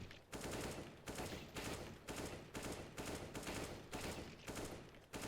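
Gunfire in the video game CS:GO, a rapid string of sharp bursts repeating in a steady rhythm roughly every half second, loud and close throughout with no talking.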